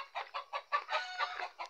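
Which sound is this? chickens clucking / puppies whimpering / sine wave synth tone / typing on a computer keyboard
chickens clucking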